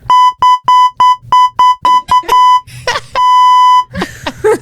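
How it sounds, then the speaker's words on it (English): Loud censor beeps at a steady pitch, first as a fast run of short bleeps and then one long held tone, broken up by bits of loud, animated talk. "put the beep on"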